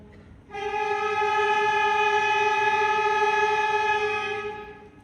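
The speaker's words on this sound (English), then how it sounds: "Instead of a mouthpiece barrel, they play on what's called a mouthpiece neck." A single sustained, buzzy, reedy tone from a saxophone mouthpiece and neck played alone, held steadily for about four seconds, loud and bright, like a horn blast, then fading out.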